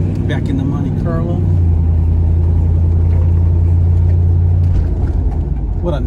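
A 1971 Chevrolet Monte Carlo rumbles along on a test drive, its engine a steady low drone heard from inside the car, with someone talking over it now and then.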